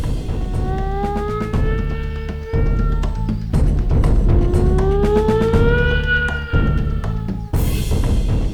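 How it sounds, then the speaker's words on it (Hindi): A warning siren wails during a tense landmine scene in a Hindi crime TV drama. Its tone rises and falls loudly, and it cuts in and out several times over a droning background. "सायरन बज रहा है"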